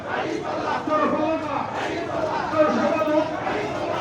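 A large crowd at a Jamaat-e-Islami protest march in Niamatpur, Naogaon, Bangladesh chants and shouts together in rough unison. The massed voices stay loud and continuous, with cheering and chatter mixed in.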